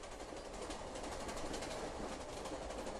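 A train racing along the tracks past signals, a steady loud rumbling roar with rhythmic clattering throughout.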